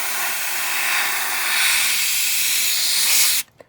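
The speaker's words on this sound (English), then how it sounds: "I thought you may be interested in seeing the can of air experiment." A can of compressed air sprays in one continuous loud, close hiss lasting over three seconds and then cuts off abruptly, with no voices.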